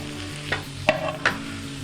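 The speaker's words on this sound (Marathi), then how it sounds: "आम्ही चिकन फ्राय बनवते आहे" Steady sizzling of chicken frying in a kadhai for chicken sukka, with three sharp scraping strokes of a spoon stirring at intervals.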